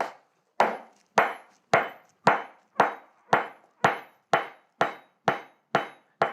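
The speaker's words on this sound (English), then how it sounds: "quickly hammer the 2 parts together" A blacksmith hammers hot iron and steel together for a forge weld, a steady series of about a dozen loud, ringing metallic strikes at an even rhythm, close and alone with no talk.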